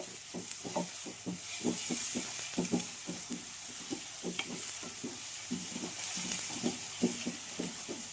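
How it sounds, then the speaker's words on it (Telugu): Onions frying in a pan with steady sizzling and regular rhythmic stirring strokes, close and moderately quiet, with no talking. "ఆనియన్స్ ఎర్రగా మగ్గించుకోవాలి"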